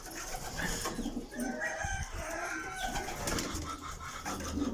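Domestic pigeons cooing on a farm, several soft throaty coos overlapping close by, with scattered fowl calls and background bird chatter throughout.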